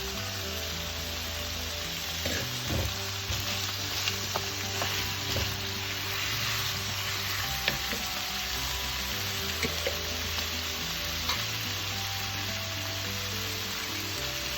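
Whole cardamom, cinnamon and clove with garam masala fry in hot oil for a creole chicken stew, a constant close sizzle with occasional stirring scrapes and pops.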